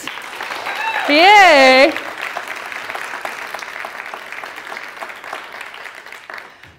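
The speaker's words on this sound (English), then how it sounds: "Can I get a round of applause for the 10 finalists?" An audience claps for the 10 finalists at a grand finale event, with a steady crowd applause after a short cheering voice, while a host speaks over it.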